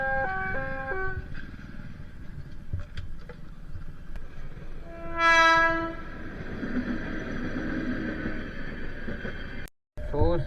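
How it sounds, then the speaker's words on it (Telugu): A train passes at a level crossing near Navipet on the road to Basara, with a loud horn blast mid-clip over steady rumbling rail and road noise. "ట్రైన్"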